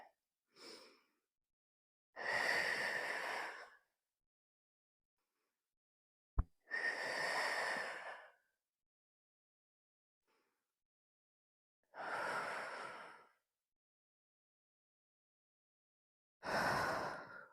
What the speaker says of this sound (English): 5 breaths here.